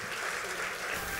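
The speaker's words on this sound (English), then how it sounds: "Let's give James another huge round of applause for everything that he's done." An audience at a community volunteer awards ceremony applauds a recipient named James, with steady, dense clapping that fills the whole moment without a break.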